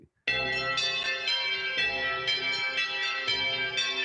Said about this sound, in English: I'm looking for chimes.